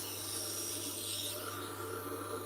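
A kitchen knife held in a jig at 14 degrees is ground on a Tormek T-2 Pro sharpener, giving a quiet, continuous rasping scrape over a low motor hum with no talking.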